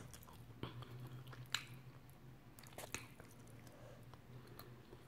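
Someone eating steamed egg with basil leaves, reheated with chicken and spicy curry paste, with quiet, close chewing and a few soft squishy bites scattered through the stretch and no talking.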